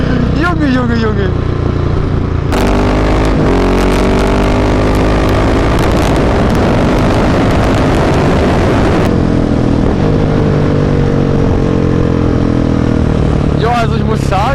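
A 2017/2018 Husqvarna 701 motorcycle with a Mivv exhaust revving hard nearby, loud rising and falling engine sweeps with sharp blips near the start and end, while someone shouts excitedly over it.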